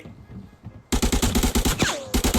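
Rapid automatic gunfire in the shooter game Arena Breakout, a burst of roughly a dozen evenly spaced loud shots after a quiet opening, with a short pause before more shots at the end.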